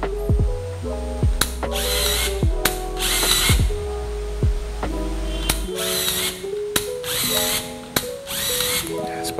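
Cannonmate MB-103 film camera mechanism running, with repeated whirring motor bursts and ratcheting clicks in uneven cycles, close up and loud with steady tones in between.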